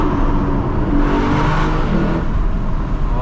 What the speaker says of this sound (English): We'll get a nice meaty downshift in this tunnel.